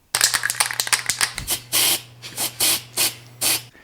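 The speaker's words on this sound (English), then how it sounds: "You did a great job shaking the can" Febreze air freshener can being shaken, a quick rattling burst, then about five separate hissing sprays in an even rhythm over a faint steady hum, close and loud.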